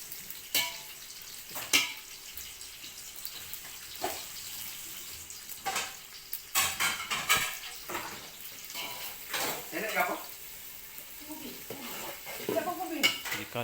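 Large onions sautéing in hot oil for Arab rice, stirred with a utensil that clinks and scrapes against the pan in uneven bursts over a faint sizzle.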